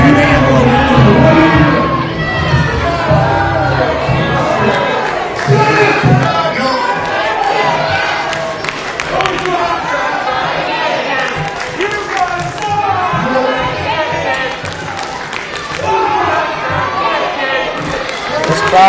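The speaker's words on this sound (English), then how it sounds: "This crowd here tonight, they are making their opinion heard." A wrestling crowd at a professional wrestling event roars, cheers and jeers continuously, a loud dense wall of voices and clapping with chants rising and falling, while a commentator talks over it.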